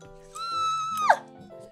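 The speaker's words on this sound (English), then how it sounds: "cat noises" A cat gives a single drawn-out, tonal cry that holds steady and then drops sharply at the end. It rises clearly above a low, busy background.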